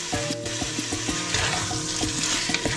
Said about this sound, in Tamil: இப்போது தேவையான அளவுக்கு உப்பு சேர்த்துட்டு நல்லா மிக்ஸ் பண்ணிக்கோங்க.